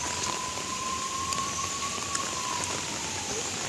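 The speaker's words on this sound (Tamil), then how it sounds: "ஆம்புலன்ஸ் சத்தம் மட்டும் கேட்குது." Steady rain hisses loudly while a faint, drawn-out siren tone wavers in the distance beneath it.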